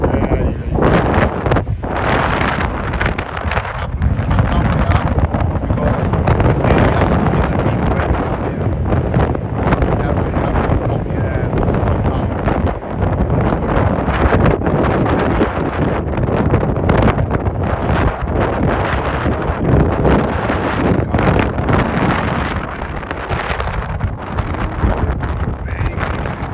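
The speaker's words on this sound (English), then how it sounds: "Very heavy, windy, and very cold weather today." Heavy, cold wind blows hard across an airport, a continuous loud rumbling buffet against the microphone that stays steady throughout.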